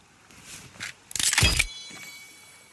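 A water container is filled in The Forest survival game with one loud, bright splashing burst lasting about half a second, preceded by a few faint shuffling sounds and followed by quiet.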